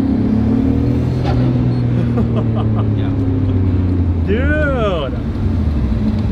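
A Top Secret built Nissan R32 GT-R drives on the road in Japan, its engine holding a steady, deep drone heard from inside the car, with a short spoken exclamation partway through.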